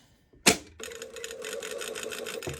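After a sharp click, a sewing machine runs in a short steady burst, stitching a seam on a bow-collar garment at close range.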